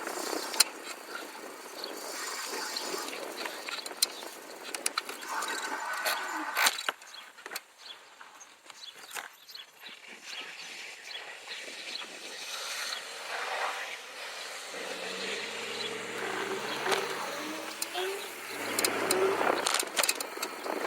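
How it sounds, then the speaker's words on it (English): Cars drive past on a street, their engine and tyre noise rising and fading as several vehicles pass at moderate distance, with a lower engine rumble building in the later part. "I let all the cars go by first."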